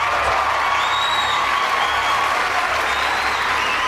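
Dense, steady applause from a crowd, loud and continuous throughout, with a few faint whoops rising above the clapping.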